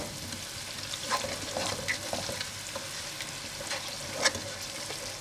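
Steady sizzling in a frying pan as pomegranate is stirred in, with scattered scrapes and clinks of a utensil, moderately loud and close.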